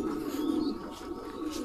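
Pigeons cooing at a large pigeon farm in Bangladesh, a low continuous murmur of overlapping coos from many birds, fairly faint and steady with no talking.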